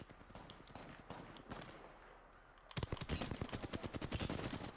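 Automatic gunfire in the battle royale shooter Apex Legends: after a quiet stretch, a rapid, loud string of shots erupts and continues steadily to the end.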